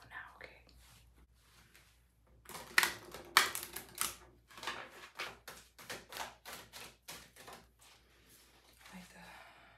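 A rapid run of crisp card riffles and taps, close and fairly quiet, with soft whispered speech drifting in at the start.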